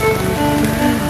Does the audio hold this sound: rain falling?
yes